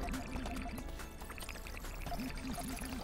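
Water pours in the video game Puddle, a steady trickling gush with a recurring gurgling, bubbling tone that repeats in short bursts over a quiet, constant background.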